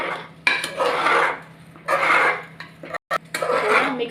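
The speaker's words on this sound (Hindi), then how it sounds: "अभी राइस को डालेंगे। अभी चावल डालेंगे।" Rice being added and stirred into a cooking pan for fried rice: several bursts of scraping and rattling against the metal pan, close and fairly loud, with a brief pause near the end.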